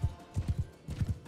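Horses gallop in a Mount and Blade Bannerlord battle with horse archers, giving quick clusters of hoof thuds in an uneven rhythm at moderate distance.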